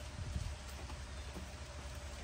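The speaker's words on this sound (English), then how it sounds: "but it's raining" Steady rain patters softly in the background, a continuous hiss with scattered drops, fairly faint.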